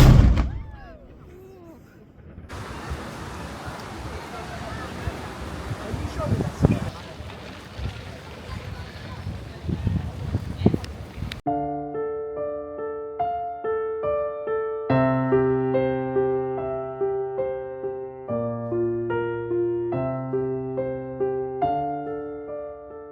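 A ceremonial cannon at the Valletta saluting battery in Malta fires with a sharp, loud boom, followed by crowd noise and then a stretch of music.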